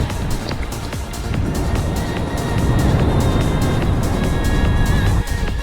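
A Bafang M400 mid-drive motor powers an electric mountain bike on a trail, giving a continuous loud whir mixed with wind rush and tyre noise that stays steady throughout.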